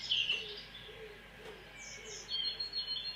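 Several birds chirp and tweet in trees, with bright high calls clustered at the start and returning near the end over a soft, steady outdoor background.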